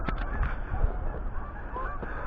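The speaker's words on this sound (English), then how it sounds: "There's a lot of geese here all the time, surprisingly." Geese honking repeatedly at a moderate distance, several overlapping calls over a low outdoor rumble.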